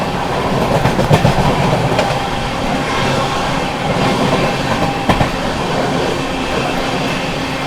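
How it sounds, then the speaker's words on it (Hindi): The 22461 Shri Shakti AC Superfast Express running through Rajpura Junction while overtaking the Jan Nayak Express: a loud, close, steady rumble of wheels with clattering rail joints and occasional squeals, with no talk. "और यहाँ पर किसी ट्रेन को तो ओवरटेक कर रहे हैं।"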